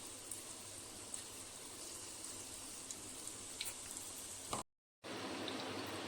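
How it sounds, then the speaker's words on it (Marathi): Corn fritters (maize bhaji) frying in oil on a low flame give a quiet, even sizzle with faint scattered crackles, steady and unbroken apart from a brief gap. "भजी मंद गॅसवरच तळून घ्यायची"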